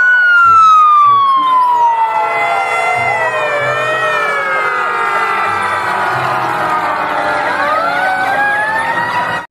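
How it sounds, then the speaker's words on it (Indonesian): A fire engine siren wails loudly and continuously throughout, its pitch sweeping up and down in overlapping tones, up close and without talk. "wah mobil pemadam kebakaran teman-teman"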